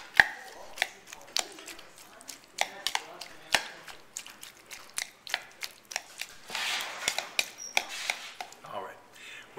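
Knife chopping avocados on a board while mixing guacamole: a quick, irregular series of sharp, close taps and thuds, some in rapid bursts, heard on their own without talk.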